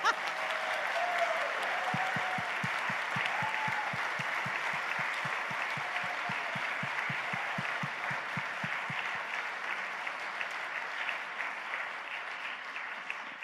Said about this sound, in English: So now you get to clap.